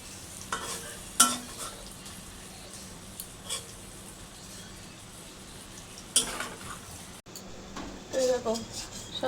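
A low, continuous sizzle of lentil fritters (bora) frying in oil, punctuated by occasional sharp clinks and scrapes of a utensil against the pan, with faint speech in the background.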